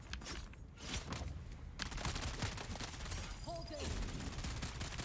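Rapid enemy gunfire in the video game Dune: Awakening, dense bursts of shots filling the scene almost continuously at close range, with a brief quieter gap early on.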